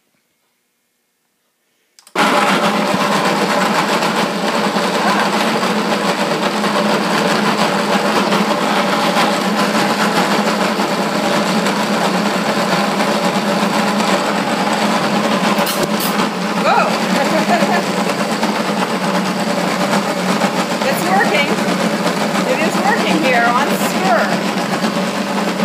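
A blender on its stir setting churns hummus after a brief silence, a loud continuous whirring motor with a rough, grinding texture that holds steady for the rest of the clip.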